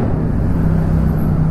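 A car with an Akrapovič exhaust gives a steady, deep low exhaust drone heard up close, a continuous rumble without revving or talk.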